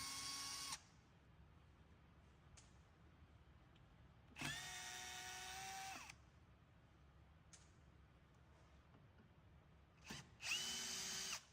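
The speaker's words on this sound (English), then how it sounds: "remove the 3 PSU retaining screws" A power driver backs out PSU retaining screws on a hydro-cooled crypto miner in three separate high whirring bursts, with quiet handling noise in between.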